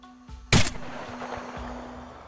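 One loud, sharp gunshot cracks out in the video game DayZ and fades into a low, steady hum, followed by a couple of faint thuds.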